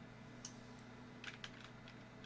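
Soft, sparse clicks of a computer keyboard during programming work at a computer, faint and irregular over a steady background hum.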